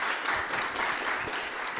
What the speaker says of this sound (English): Applause to Janusz, please.